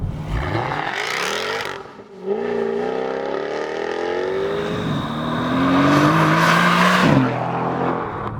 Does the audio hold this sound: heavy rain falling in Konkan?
no